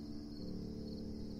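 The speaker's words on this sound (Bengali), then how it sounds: "চারিদিকে শীতল বাতাস বইছে আর ঝিঝি পোকার ডাক ভেসে আসছে।" Crickets chirp at dusk in a village, a faint, steady high trill that continues unbroken and alone.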